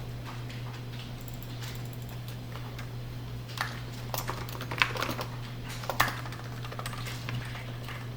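Close, quick keystrokes tapped on a computer keyboard with a clicky rhythm, coming in short bursts over a steady low electrical hum, with no voices.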